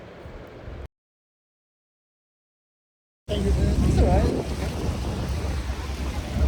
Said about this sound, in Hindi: ये यूएस का वाटरफॉल है